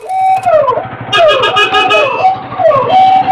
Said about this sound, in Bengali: পিছনে অ্যাম্বুলেন্স আছে কিন্তু কেউ জায়গা দেবে না